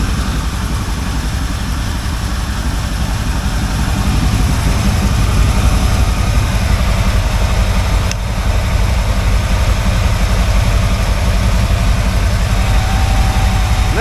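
The engine of a 1980 Camaro Z28 runs steadily at idle, a loud and close low rumble that holds level throughout with no talk over it.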